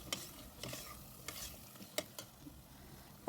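Spices, red pepper, turmeric and garlic fry in a pan with a quiet, soft sizzle, while a spoon stirs and scrapes in a few distinct strokes.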